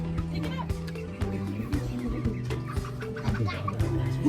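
Chickens clucking close by on a farm visit, a steady run of short clucks and calls under a lively outdoor background with bursts of talk nearby.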